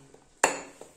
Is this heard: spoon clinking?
yes